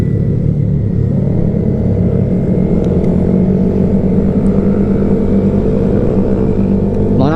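A pack of about fifteen scooters on a year-end group ride near Lemery, Batangas, makes a loud, steady engine drone and rumble that continues unbroken throughout.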